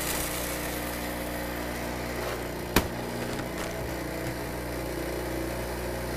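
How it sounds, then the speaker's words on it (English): A new espresso machine, freshly unboxed, runs its rinse cycle with a steady droning pump hum and one sharp click partway through, with no talking. "My machine's rinsing."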